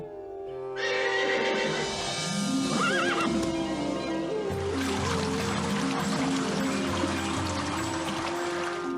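A mare neighing outdoors, a drawn-out whinny rising and falling over a continuous background of trickling or pouring water, with no talk.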